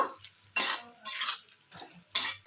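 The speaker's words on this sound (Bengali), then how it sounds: "আমি ওপর থেকে গরম মশলা গুঁড়ো ছড়িয়ে দিলাম দিয়ে একটু নাড়াচাড়া করে নেব" Pointed gourd and shrimp curry, dusted with garam masala, is stirred in a pan: four distinct scraping strokes of a utensil against metal, close and moderately loud, separated by brief quiet pauses.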